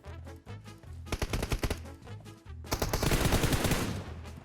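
Gunfire in a shooter video game, with a rhythmic low thumping beneath short bursts of rapid shots that build into a dense, loud volley of continuous fire.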